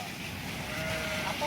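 Goats at a livestock market during heavy rain give a faint, short bleat near the end, rising slightly out of a steady wash of crowd and rain noise.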